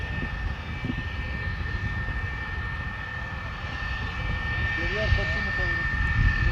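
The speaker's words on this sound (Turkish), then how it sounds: "Bu uçaklar önce alçak geçip selamlama gerçekleştirdi." Jet aircraft engine roar from an F-4 making a low pass at a military air exercise in Konya, a steady broad rumble that swells slightly toward the end, with people talking nearby.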